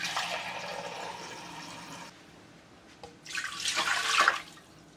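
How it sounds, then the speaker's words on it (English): Half a liter of water pours into a distiller, giving a close, splashing rush that stops, then a second louder, gurgling pour after a short pause. "I'm gonna put in my distiller half a liter of water."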